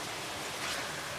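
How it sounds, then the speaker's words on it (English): Steady rain falls outside a work area where a 2002 Mercury Sable is being repaired, a continuous soft hiss with no other sounds over it. "Sorry about the rain outside."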